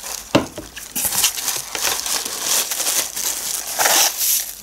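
Close paper packing filler crinkles and rustles continuously as hands rummage through it, with sharp crackling bursts.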